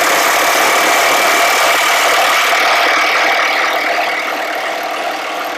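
A Milwaukee M18 high-torque tool running on a Forge battery, rated at 1,600 foot-pounds, gives a loud, steady, buzzing mechanical drone that holds for several seconds and eases slightly toward the end.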